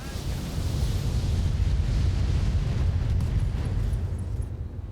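Mech weapons firing together in the video game BattleTech, a dense roaring barrage of booming blasts that holds loud and continuous for several seconds before easing off.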